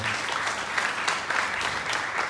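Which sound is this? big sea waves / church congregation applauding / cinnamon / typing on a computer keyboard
church congregation applauding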